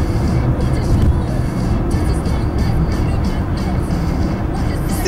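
A car drives along a road while overtaking a motorcyclist, its engine and tyre rumble a steady, close drone inside the cabin, with people talking over it.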